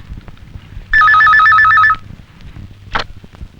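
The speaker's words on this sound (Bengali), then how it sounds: "ফোন।" A telephone rings in a single loud electronic burst of rapid warbling tones lasting about a second, followed by a short sharp noise, in an indoor scene from a Bangla film.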